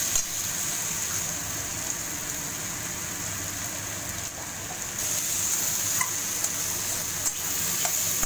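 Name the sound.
stirring and sautéing spices with salt in a pan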